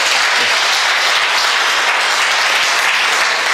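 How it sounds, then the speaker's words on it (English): Audience at a healing and holy fasting church service breaking into loud, sustained applause, a thick continuous roar of many hands clapping close by, steady and unbroken throughout with no talking. "Give me a clap."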